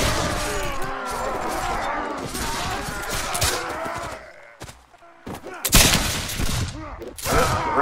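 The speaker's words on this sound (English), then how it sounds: "The round hit the cannon right in front of me." Heavy video game battlefield din in Caribbean!, with booming cannon round impacts and crashing blasts, rolling explosions and scattered shots, loud and dense, with a brief lull before another big hit.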